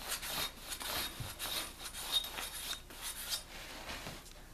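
A knife blade stropped on several layers of blue jeans laid on a board, soft repeated rubbing strokes in a steady rhythm, quiet and close.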